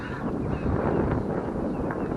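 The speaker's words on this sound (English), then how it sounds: "Sorry, it's a little windy." Wind buffets a microphone outdoors during a review of a water filter, a steady low rumbling roar with gusty swells, heard on its own without talk.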